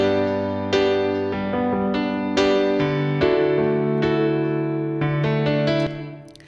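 A grand piano plays a slow sequence of sustained chords and single notes, each decaying into a soft reverb tail from an effects bus in a Studio One mix, alone and fairly quiet.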